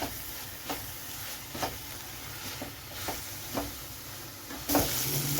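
Spice powders, including chilli powder and garam masala, are stirred in a pan for a mushroom curry. A spoon scrapes in a slow, regular rhythm of soft strokes over a faint low sizzle, with one louder scrape near the end.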